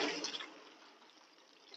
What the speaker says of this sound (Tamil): பக்தர்கள் தண்ணி ஊத்துறாங்க.